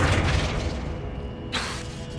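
Flipendo spell cast in the video game Hogwarts Legacy, a deep booming impact with a whooshing burst that rings out, followed by a second brighter swoosh and rumble, under steady game ambience.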